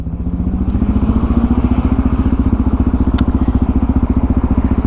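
A Yamaha FZ-09 or Suzuki DR-Z400 motorcycle engine thrums loudly and steadily while the bike is ridden, with a fast, even pulsing beat close to the microphone throughout.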